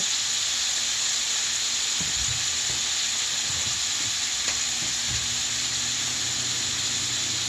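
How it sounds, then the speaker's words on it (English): Ground beef browns in a pot with pepper and Italian seasoning, giving a loud, steady sizzle and hiss with occasional low knocks of stirring. "we're just going to brown that until we get brown"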